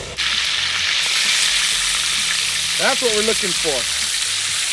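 Burgers for green chile cheeseburgers sizzle loudly and continuously on a hot pan, a steady close hiss that runs throughout while someone speaks briefly over it.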